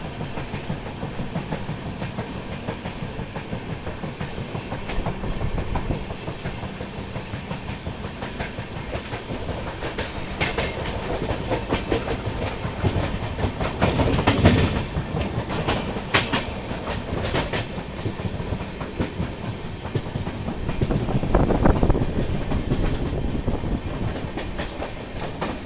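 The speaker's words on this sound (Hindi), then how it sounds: "ट्रेन नंबर 15027 यानी संबलपुर गोरखपुर मौर्य एक्सप्रेस" Onboard the Sambalpur–Gorakhpur Maurya Express (train 15027) between Sambalpur and Ranchi: a steady, loud rumble of the running coach with rhythmic wheel clatter over rail joints, swelling in places, no voices.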